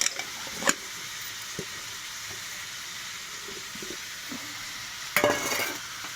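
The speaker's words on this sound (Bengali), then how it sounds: "এভাবে ডিমগুলো ছেড়ে দেওয়া হলো" Eggs fry in a pan on a gas stove, a low steady sizzle with a few sharp clatters and scrapes near the start and a louder burst of spattering toward the end.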